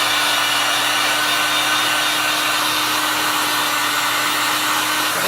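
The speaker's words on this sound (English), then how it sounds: "And I'm gonna grab my heat gun here." A handheld heat gun blows steadily to dry a heat-press craft project, a loud, continuous airy whoosh with a faint hum, with no pauses for the full stretch.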